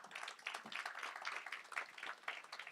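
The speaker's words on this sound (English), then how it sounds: "Can we give him a round of applause" Seminar audience applauding, a faint, steady patter of many hands clapping at a distance.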